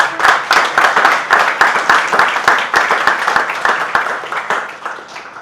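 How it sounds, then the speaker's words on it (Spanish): A church congregation applauds during a Spanish-language service, the claps falling into a steady, rhythmic beat at a few per second, loud and close, with only a gentle fade near the end. "Dale un aplauso a Jesús."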